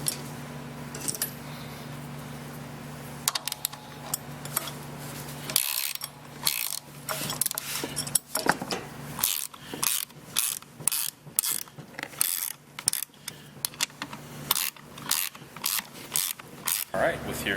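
A hand ratchet clicks rapidly and repeatedly as it tightens nylock nuts onto the seat bolts of a 2015-2022 Indian Scout motorcycle, with close, loud bursts of ratcheting and a low steady hum underneath.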